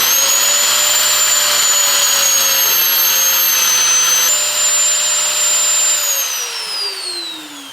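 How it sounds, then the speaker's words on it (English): A magnetic drill clamped to a flatbed steel frame whines steadily at high pitch while boring a hole, the motor pitch dipping slightly under load before winding down near the end; loud, close and continuous, with no talking. "hit the magnet, sucks it on, and you drill."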